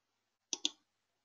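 A computer mouse clicks twice in quick succession, crisp and close against near silence, as the Add Files button is pressed.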